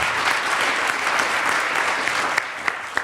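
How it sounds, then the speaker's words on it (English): Steady, full applause from a crowd at a convention opening ceremony, loud and continuous, with a few sharper individual claps standing out toward the end. "Can we get a round of applause and start things off with some excitement?"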